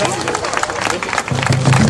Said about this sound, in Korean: 리분께 박수를 해주시기 바랍니다